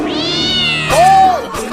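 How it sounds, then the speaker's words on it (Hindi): Cats yowl and caterwaul in a cartoon comedy scene, a long wavering meow followed by a sharper rising-falling yowl, loud and close, alone with no talk. "बिल्लियों छोड़ो, बंद करो नोचना"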